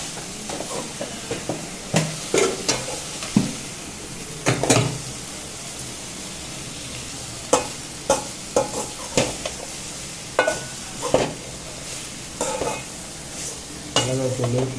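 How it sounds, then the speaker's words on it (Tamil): A spoon scrapes and stirs soya chunks with onion, tomato and chilli masala in a hot pan, with irregular sharp clanks over a steady low sizzle. "எல்லாத்தையும் நல்லா மிக்ஸ் பண்ணி விட்டுக்கோங்க."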